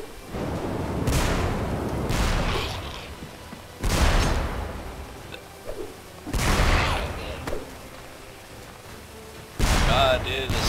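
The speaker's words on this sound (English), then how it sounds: "Throwing bombs at me." Bombs bursting in the video game Magicka: several heavy, booming blasts spaced a few seconds apart, each loud and broad, with quieter rumbling play sounds between them.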